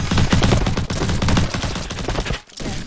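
Rapid shotgun blasts in a video game, a dense run of loud, sharp booms in quick succession, then a brief drop to near silence before the firing resumes.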